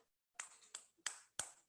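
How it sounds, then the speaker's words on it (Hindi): A few separate claps from an audience at an evening religious discourse, faint and sharp, four or five quick hand claps spread over a moment of near silence. "सभी तालियां बजा दीजिए एक बार।"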